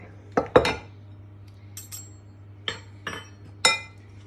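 A utensil clinks against a bowl while blue cheese and walnut muffin batter is stirred, giving a handful of sharp, close knocks and clinks spread unevenly with quiet gaps.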